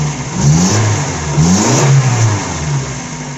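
Suzuki APV with a G16A engine and a repaired catalytic converter and exhaust muffler revving twice in close succession, loud and near, rising and falling engine roar without rattling.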